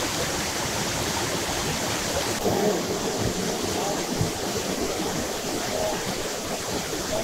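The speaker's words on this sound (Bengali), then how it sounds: "ঝর্ণার শব্দটাই অসাধারণ" Rushing water at Paraeso Falls in South Korea, a broad steady roar of the waterfall close by, filling the whole stretch evenly with faint voices around.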